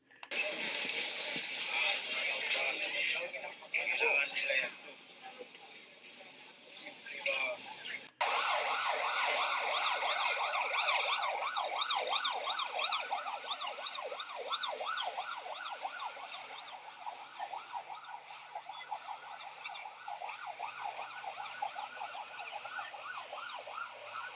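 A wailing siren rises and falls in steady repeated sweeps, loud and fairly close, with traffic noise and some muffled activity before it, after dual bombings at a Catholic church in the Philippines.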